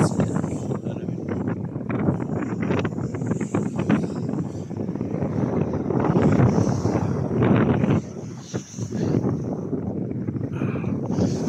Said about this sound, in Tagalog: mahangin dito guys, malamig.